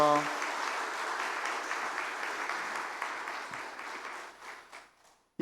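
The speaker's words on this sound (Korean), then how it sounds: "박수로 축복하겠습니다." Church congregation applauds in blessing during a youth service, a sustained patter of many hands that follows a brief voice and thins out and fades toward the end.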